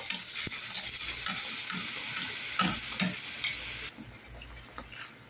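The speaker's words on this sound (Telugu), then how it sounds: "చికెన్ వేసేసాను ఇందులో కలిపి పెట్టిన చికెన్" Marinated chicken fries and sizzles in hot oil for a Rajasthani chicken curry, a steady, moderately loud hiss with soft stirring and scraping sounds, and no talking.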